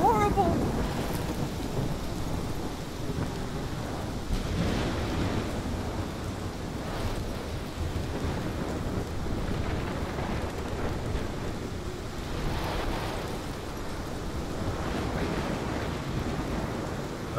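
A thunderstorm rages in the video game Life is Strange, heavy rain pouring steadily while deep rolls of thunder rumble and swell repeatedly, loud and close throughout with no voices.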